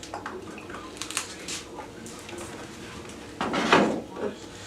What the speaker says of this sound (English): I'm going to pour the clay in and I'm not going to pour it out.